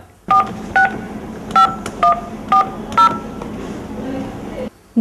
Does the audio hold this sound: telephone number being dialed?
yes